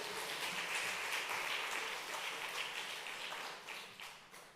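Congregation applause in a church gathering, a dense wash of many hands clapping at once, fairly steady before tapering off near the end.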